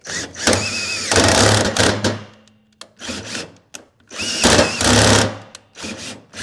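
A power drill whines in repeated bursts while drilling through metal, revving up and cutting out as it strains, with short pauses between the loud runs.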